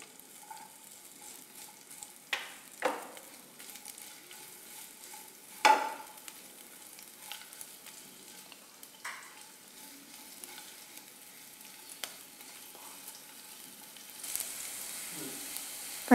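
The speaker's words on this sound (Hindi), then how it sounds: "हमने इसे थोड़ा सा अच्छे से फ्राई कर लिया है, मिर्ची भी हमारी सिक गई हैं।" Green chillies and ginger sizzle and crackle in a hot pan, a quiet steady fry punctuated by occasional stirring scrapes and clinks.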